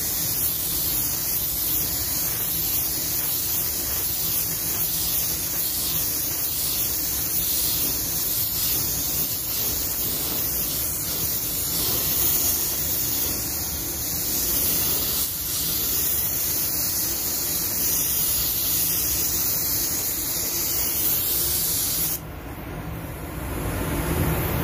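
Spray gun laying red paint onto a car fender, a continuous loud hiss of atomized air holding steady for over twenty seconds, briefly shifting near the end.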